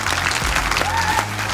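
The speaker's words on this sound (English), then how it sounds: "Can we give the apprentice a round of applause?" A conference audience applauds an apprentice, a dense burst of clapping at steady loudness throughout, with a few faint voices mixed in.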